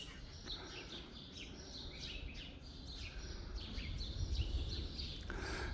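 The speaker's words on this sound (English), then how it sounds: "Listen to the birds." Several birds chirp and tweet in quick, scattered bursts over a soft outdoor hum at the Church of the Holy Sepulchre in Jerusalem, fairly distant and quiet.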